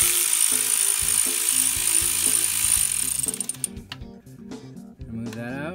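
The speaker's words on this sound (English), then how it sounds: "There is one bolt right there, 10 millimeter, that needs to be removed." A power tool spins out a 10 mm bolt on a 2012 Nissan Versa SV 1.6L during CVT service, giving a whirring, ratcheting burst for about three seconds before it fades into quieter clicks.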